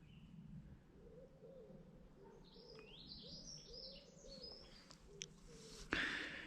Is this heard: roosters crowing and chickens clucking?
no